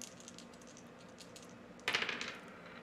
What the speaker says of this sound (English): here we go, guys, for the dice roll